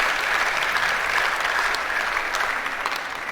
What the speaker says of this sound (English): clap and let us know you are doing